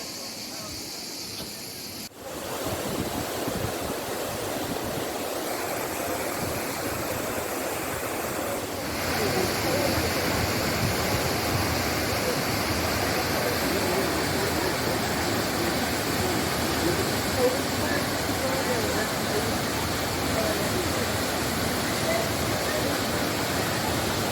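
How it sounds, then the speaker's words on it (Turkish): Steady broadband rushing of Mıhlı Waterfall in the Kaz Mountains, Turkey, continuous and fairly loud, with no voices, swelling slightly after the first couple of seconds. "Mıhlı Şelalesi ülkemizde bulunan diğer şelalelerden küçüktür."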